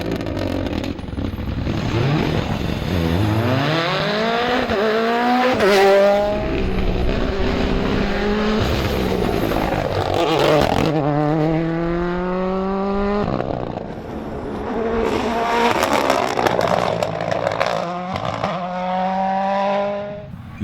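Rally cars, including a Mini WRC and a Mitsubishi, race through a stage at a champagne-country rally, engines rising and falling in repeated revving runs with gear changes, loud and close throughout.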